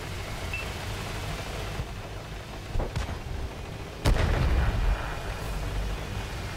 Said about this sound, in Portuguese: Tem que ficar esperto com essa artilharia também.